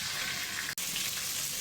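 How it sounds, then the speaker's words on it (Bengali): Pangas fish fries in a pan, a dense, even sizzle with a brief break near the middle, close and continuous, with no talking. "আরও কড়া করে ভাজা দিব"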